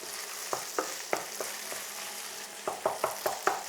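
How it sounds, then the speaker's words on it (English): Ground beef browns and sizzles in a pan with a steady hiss, broken by a series of sharp scraping taps as a spoon stirs and breaks up the meat, close and fairly quiet. "you can see that the beef is now starting to brown and caramelise"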